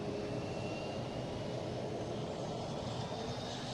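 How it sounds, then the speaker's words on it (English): A Delta airliner arriving at Boston Logan International Airport, a steady broadband engine roar that stays loud and constant throughout with no voices. "Next coming in, we have a Delta Flight 816 coming in from San Antonio."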